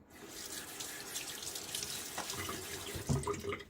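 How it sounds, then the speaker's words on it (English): Tap water running into a sink during a wet shave, a soft steady hiss and splash that stays quiet and continuous, with a slightly louder burst of splashing near the end. "A little water on the face."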